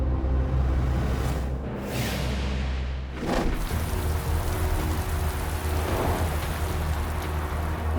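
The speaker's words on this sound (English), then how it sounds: "Freezing rain has been hammering the highways around London for hours." Heavy freezing rain pours steadily on highways around London, hissing and pattering on surfaces, with a brief dip and a whooshing gust partway through; no voices.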